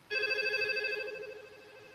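A telephone rings in another room of a house during a severe storm: one steady electronic ring that starts suddenly and fades slowly, moderately faint, with no voices over it.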